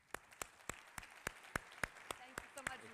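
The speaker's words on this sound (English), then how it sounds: "please give a nice round of applause as she comes to the stage, Ms. Karen Hughes." An audience at a conference applauds as a speaker comes to the stage, heard as a sparse, steady run of distinct claps spaced roughly a quarter second apart, fairly faint and close.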